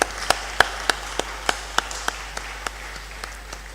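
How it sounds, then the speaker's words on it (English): A few sparse, rhythmic claps sound at an academic awards ceremony as sponsors are thanked. The claps are evenly spaced and soft, fading slightly, with no voices over them. "Please, can we give them a round of applause?"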